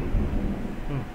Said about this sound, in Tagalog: Grabe yung kulog ah.